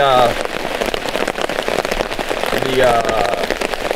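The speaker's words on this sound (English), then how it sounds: "This is a heavy, steady rain." Heavy, steady rain drums continuously on a camping tarp overhead, a dense close patter filling the whole stretch with no letup, a voice briefly murmuring beneath it.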